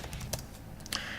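Computer keyboard keys tapped while writing Arduino code, a few soft clicks over a steady background hum, close and fairly quiet.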